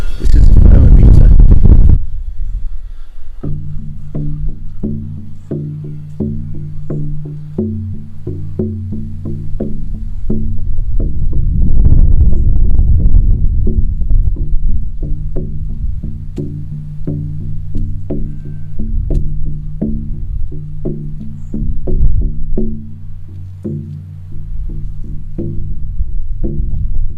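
A large 22 by 18 inch oval shamanic drum with a buffalo skin head, beaten in a steady rhythm of deep booming strikes that ring on and overlap, loud and close, continuing throughout without talk.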